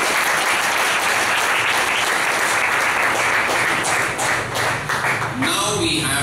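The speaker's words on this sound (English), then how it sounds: "please give another big round of applause" Large audience giving a big round of applause at a speech evaluation session, a loud, dense, continuous roar of clapping that tapers off near the end as a voice begins.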